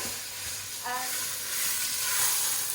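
Salted greens wilting in a hot pot, a soft steady sizzle and hiss that swells slightly toward the end, close and alone.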